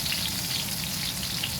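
Baingan masala frying in a pan, a steady loud sizzle running without a break and with no voices.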